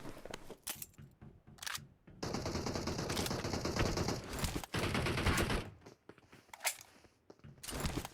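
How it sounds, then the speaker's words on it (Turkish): Gunfire in the mobile battle-royale game PUBG Mobile: bursts of rapid automatic fire come in long sustained volleys, broken by gaps and a few single shots. The shooting is fairly loud and steady across the stretch. "Önümde biri sıkıyor."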